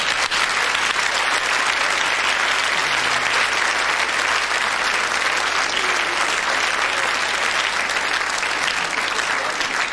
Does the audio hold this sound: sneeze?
no